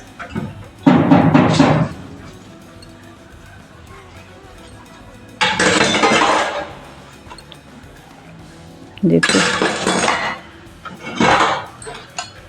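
Dishes and metal utensils clink and clatter in three loud bursts while being washed by hand at home, with short pauses between and a brief spoken word near the start.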